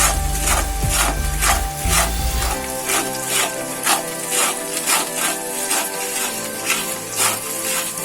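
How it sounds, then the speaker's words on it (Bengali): A pan of chickpea curry (ghugni) being stirred with a utensil, giving steady rhythmic scraping strokes about twice a second, close and fairly loud, with a low hum in the first few seconds. "আমি এটাকে সময়ভাবে নাড়তে থাকবো, যাতে না লেগে যায়।"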